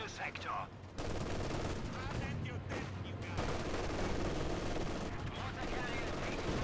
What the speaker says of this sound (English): an intense hailfire led here from the Grenadiers and light machine guns